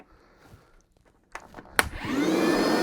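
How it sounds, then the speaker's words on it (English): A few sharp knocks and clatters, then a shop vacuum starts up and roars steadily, its loud motor whine filling the rest. "Now I need a shop vac."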